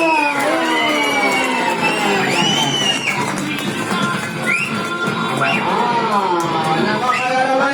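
A crowd at a Jollibee children's first birthday party cheers, whoops and shouts loudly and continuously, with children's high voices and an adult voice mixed into the din.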